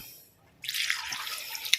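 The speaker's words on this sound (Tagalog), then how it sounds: "lagyan po natin ng tubig para malaga po siya" Water pours into a cooking pot holding beef skin for boiling, starting abruptly as a bright, close splashing rush that continues steadily after a brief quiet moment.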